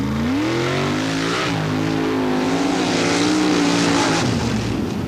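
A mud racing car's engine roars loudly during a race run, holding a sustained high-revving drone with slight pitch swells and a dip partway through.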